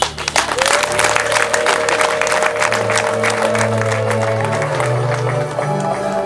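An audience at a wedding celebration claps loudly, dense continuous applause lasting several seconds, with sustained musical tones underneath.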